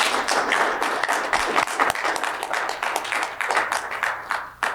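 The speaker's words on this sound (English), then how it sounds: "if you'll join me in giving them a round of applause" An audience at a Weber County meeting applauds in a steady, dense wash of clapping that lasts the full few seconds, fairly loud and close, with no talk over it.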